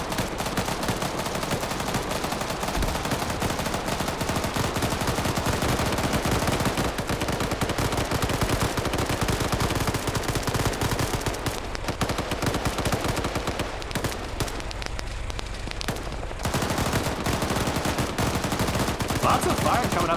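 Gunfire in a video game battle over a mountain peak, a dense continuous crackle of rapid shots and bursts from many weapons, loud and sustained, with a brief lull near the end before firing resumes.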